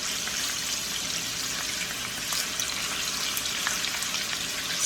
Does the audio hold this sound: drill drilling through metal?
no